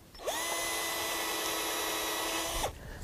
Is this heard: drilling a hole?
yes